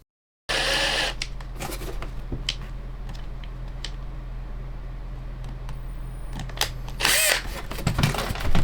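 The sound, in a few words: power drill drilling hole in old iPhone frame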